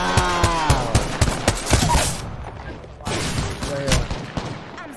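Video game gunfire in a multiplayer firefight, a rapid series of sharp shots in quick bursts, fairly loud, with a player's voice talking over parts of it.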